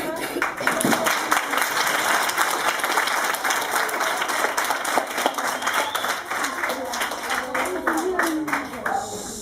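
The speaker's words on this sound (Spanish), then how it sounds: "Sí, le damos un aplauso" School audience of pupils applauding to welcome an illustrator at a public school event, sustained lively clapping with sharp individual claps standing out, steady throughout and fading slightly at the end, with a few voices underneath.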